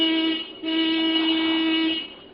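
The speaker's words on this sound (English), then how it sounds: "I always honk the horn when I'm in the neighborhood." A car horn sounds in a neighborhood street, two sustained honks close by, a brief gap between them, clear and alone with no speech.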